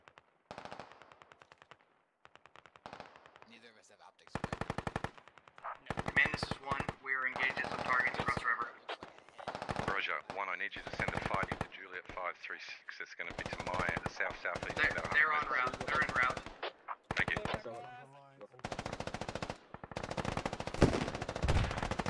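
Gunfire in the video game Squad: long bursts of automatic weapon fire crackle on and off, loud and near, with short pauses between volleys and voices talking in the gaps.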